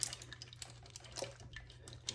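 Meatloaf juices drip off in a crockpot: a few faint, scattered drips and small liquid ticks over a low steady hum, quiet and close, with no talk.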